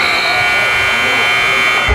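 A basketball game buzzer sounds at the end of the first half of a boys high school varsity game between Rye and Mamaroneck, a loud sustained electronic tone droning throughout over gym noise and commentary.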